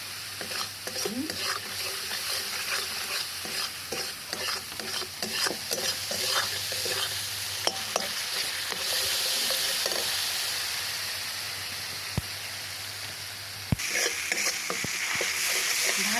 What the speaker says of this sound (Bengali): কষিয়ে নেব ভালো করে কষিয়ে নেব ভালো